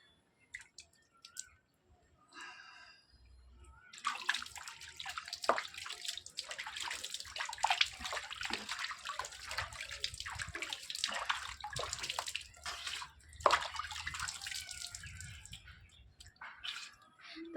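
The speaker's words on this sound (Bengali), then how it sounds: "কি বলতো আমি এখন স্নান করছি" Water splashes and pours continuously while someone bathes with cool water in hot weather, a steady close wash of sloshing and dripping after a quiet start, with no talk.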